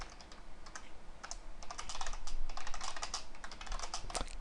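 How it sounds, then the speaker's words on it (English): Fast bursts of clicking keystrokes on a computer keyboard, close and fairly quiet, with brief pauses between runs and no talk. "Can't talk and type at the same time apparently"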